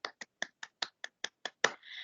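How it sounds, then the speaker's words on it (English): Faint, evenly spaced claps from a single pair of hands at a school assembly held over an online meeting, about ten crisp strikes in a steady rhythm and then a soft trailing noise. "let's give year four a round of applause before we forget"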